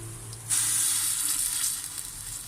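Onions hit hot sunflower oil in a pot: a loud, steady sizzle bursts up suddenly and keeps crackling and hissing close by.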